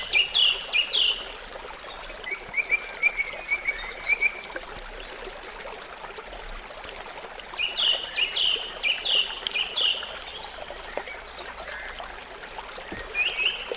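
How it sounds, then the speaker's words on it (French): Water cascades and trickles in a stream under a canopy of greenery, a constant close gurgle, while birds sing bright repeated chirping phrases in bursts above it. "les bourdonnements de l'eau qui cascade, glisse, le chant des oiseaux"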